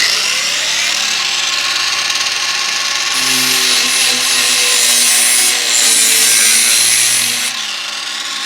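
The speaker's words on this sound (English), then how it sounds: "I'm just going to grab my angle grinder and quickly nick off the edge" An angle grinder bites into the edge of a cutout sheet, its high whining grind rising sharply for a few seconds then easing back to a steady motor hum, loud and close with no talk.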